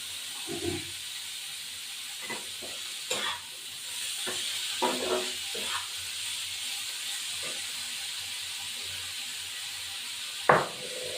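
Figs fry in a pan with a steady hissing sizzle in the background, broken by occasional stirring scrapes and a sharp clack near the end.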